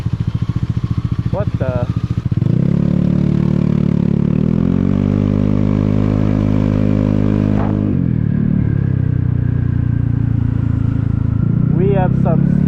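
A 2023 Vespa GTS300 HPE Supertech scooter pulls away and rides, its engine revving up and holding a steady drone, then easing off, with a voice briefly speaking over it.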